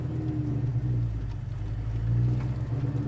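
A 700hp cammed manual Mustang creeps along slowly in first gear, its engine giving a steady, deep, lumpy idle-like rumble at moderate level with no talk over it.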